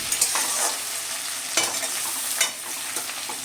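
Potatoes and tomatoes stirred in a pan for a Bengali-style catfish curry, a steady scraping and sizzling that runs throughout with several sharper strokes of the spoon, close and fairly loud, with no talking.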